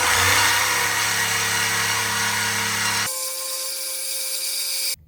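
A power saw cuts through the exhaust pipe of a 2013 Ford Focus ST at a bend, a loud, continuous whining grind that drops in pitch midway and stops abruptly near the end.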